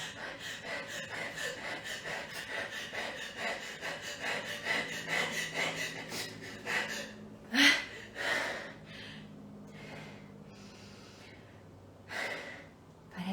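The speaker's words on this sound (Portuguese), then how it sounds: "Curtinha, rápido, o mais rápido que você conseguir, e vai sentindo o que acontece no seu corpo quando você respira assim" Rapid, short breaths in and out during a breathing exercise, repeated in a quick, steady rhythm close to the microphone, with a louder sharp gasp partway through.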